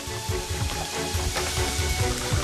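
Handmade fish cakes frying in hot oil make a steady, close crackling sizzle with a dense bubbling hiss and no pause, and no one speaks.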